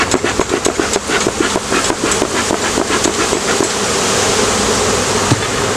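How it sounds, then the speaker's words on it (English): A loud swarm of bees drones continuously during a swarm removal, with rhythmic pulsing thumps through the first half before the buzzing evens out. "I know it looks like there's a lot of bees flying around"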